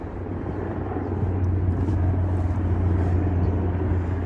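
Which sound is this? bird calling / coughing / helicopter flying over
helicopter flying over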